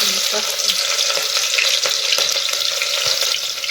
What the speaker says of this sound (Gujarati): તો આપણે તેલ જો ફૂલાઈ ગયું છે, પેલા આપણે નાખી દઈએ જીરું